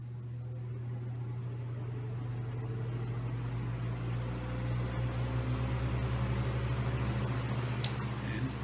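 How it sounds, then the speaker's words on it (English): Signal Deluxe 16-inch oscillating fan with its gear mechanism engaging, a steady motor hum and whir growing slightly busier as the oscillation gears start turning, with a faint rhythmic ticking late on. "we've got it engaged and the fan starts oscillating"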